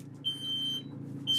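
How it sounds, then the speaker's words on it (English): A smoke alarm set off by paint fumes emits two shrill, high-pitched beeps, loud and close, separated by a brief pause. "It's a smoke alarm."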